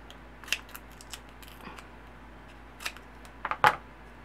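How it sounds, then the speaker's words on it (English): Scissors trim excess paper from a handmade greeting card, producing a few short, crisp snips scattered across an otherwise quiet background, with a quick cluster of cuts near the end. "I can use my scissors to trim off the excess"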